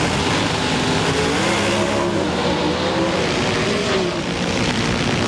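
Pro Stock drag race cars, one an Oldsmobile, at the 1998 NHRA Mopar Parts Nationals in Englishtown, roar under full acceleration in a loud, dense, continuous engine blare that rises slightly in pitch and holds steady for the whole stretch.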